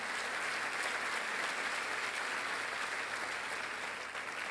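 Sustained applause from a church congregation during a sermon, dense and steady clapping filling the room throughout at an even level, with no individual voices standing out.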